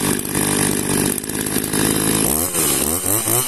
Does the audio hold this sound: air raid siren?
no